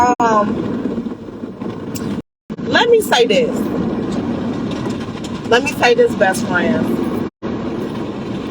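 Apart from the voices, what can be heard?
car wash machinery running around a car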